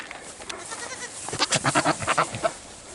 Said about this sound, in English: Crazy goats.